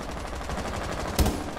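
Rapid bursts of gunfire crackle through a noisy outdoor scene, with one louder sharp shot standing out near the end.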